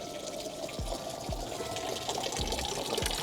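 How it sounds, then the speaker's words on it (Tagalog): Water runs steadily from a public drinking fountain in Geneva, a continuous close splashing stream with a few low thumps, no voices. "So, pwede tayo mag-igib dito at uminom."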